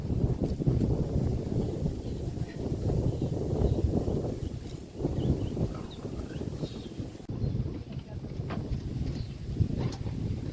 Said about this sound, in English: This wind is pushing us.